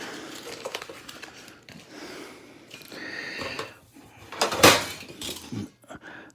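Metal air fryer tray or cookie sheet from a toaster oven air fryer being handled, with clattering and rattling clanks that peak in one loud bang near the end, mostly without talk.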